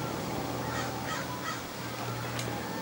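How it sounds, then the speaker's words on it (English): A bird perched in a tree lets out three harsh, raspy squawks in quick succession, moderately close, over a steady low outdoor hum. "What do you think his sign was when he squawked?"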